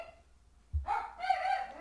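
Dogs bark nearby: a sudden deep bark breaks a near-silent room, followed by higher, excited yips and whining barks that continue loudly to the end.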